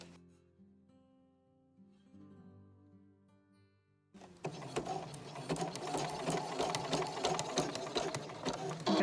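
After about four seconds of quiet tones, a sewing machine starts up loud and close, running a small zigzag stitch over overlapped elastic in a fast, steady mechanical whir.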